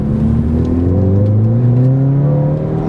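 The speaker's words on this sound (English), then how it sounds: "Listen to that exhaust note." A Ford Fiesta ST hot hatch accelerates hard through a residential neighborhood. Its exhaust note is loud and close, with a steady, throaty drone that climbs in pitch as the revs build.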